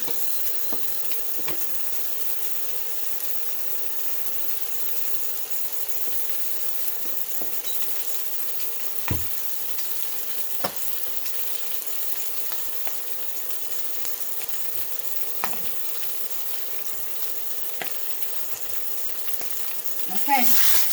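Steak searing in a Pampered Chef multi cooker, a steady, even hiss of sizzling running throughout with a few faint clicks and utensil taps, while a person talks quietly.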